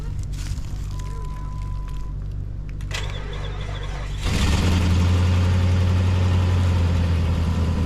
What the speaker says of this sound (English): Well, the two Jeeps started.